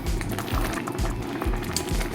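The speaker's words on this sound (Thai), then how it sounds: "เทก๋วยเตี๋ยวลงในถ้วยเราต้องเทลงในถ้วยก่อนแล้วค่อยเติมพริกนะครับ" Thai boat noodle soup pours into a bowl with a steady liquid splashing and sloshing, a continuous close-up stream of broth running for a couple of seconds.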